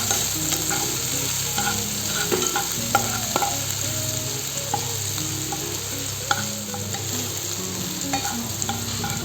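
Halved bay leaves sizzle in hot oil with frying onion and ginger, a continuous crackling fry with light spatula scrapes and taps against the pan.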